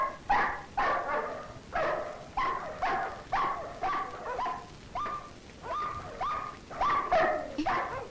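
Several dogs bark in a steady run of about a dozen close, loud barks at a fairly even rhythm over a noisy background, with no clear speech in between.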